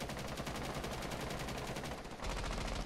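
Rapid automatic gunfire in the Rainbow Six Siege video game, a dense, loud, evenly spaced stream of shots that continues for about three seconds with a brief shift in tone near the end.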